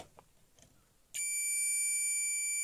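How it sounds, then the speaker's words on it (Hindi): A multimeter set to continuity emits a steady, shrill beep as its probes touch a fully shorted diode on an LCD monitor power supply board, starting abruptly after faint clicks and holding without a break. "अभी देखिए इस डायोड में बीप आना चालू हो गया है, मतलब ये जो डायोड है ये फुल्ली शॉर्टेड है"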